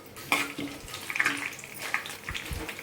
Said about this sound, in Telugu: ఆయిల్ హీట్ ఎక్కిన తర్వాత పోపు దినుసులు వేసుకోవాలండి.